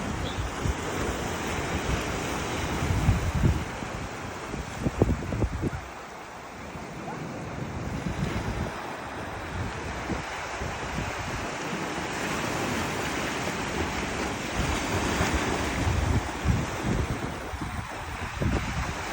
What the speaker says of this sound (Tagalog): Ang sarap pakinggan ng ingay ng tubig.